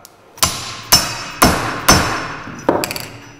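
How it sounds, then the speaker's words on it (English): A hammer taps a shaft into a drive fit: five sharp, close metallic knocks at a fairly even pace, then a brief cluster of lighter taps with quick ringing decays. "the final one is our drive, which was going to need a bit of a tap."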